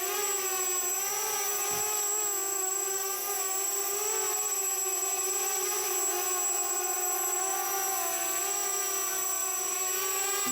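A RoboCat 270 quadcopter drone with 6-inch props hovers close by, giving off a steady, high-pitched motor and propeller whine with slight pitch wobble throughout, with no talking.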